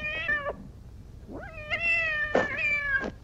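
A cat meows several times in the Star Trek episode Catspaw, with drawn-out tonal cries that rise and fall, close and clear, with no talking.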